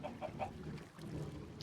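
Video game chickens cluck in a few quick, soft bursts, then short higher squawks, heard alone without talking.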